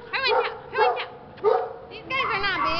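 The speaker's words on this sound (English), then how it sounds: "This is Dog, and I just gotta say, hey Dog!" A tiny dog gives a series of high, yappy barks and yips in quick bursts, close by, with some voices mixed in.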